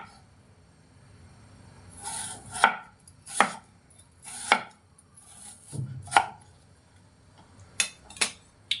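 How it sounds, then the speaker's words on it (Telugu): A knife chopping potatoes on a board for crispy french fries: about nine sharp, close cuts in an uneven rhythm, some coming in quick pairs, with quiet gaps between and no talk. "కట్ చేసుకుందాం."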